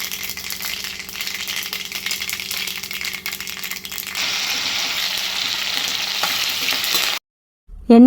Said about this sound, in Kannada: ಇಲ್ಲಿ ಆಯಿಲ್ ಬಿಸಿಯಾದ ನಂತರ ಸ್ವಲ್ಪ ಸಾಸಿವೆ, ಜೀರಿಗೆ, ಚಿಕ್ಕದಾಗಿ ಕಟ್ ಮಾಡಿರೋಂಥ ಆನಿಯನ್ ಹಾಕ್ತಾಯಿದ್ದೀನಿ.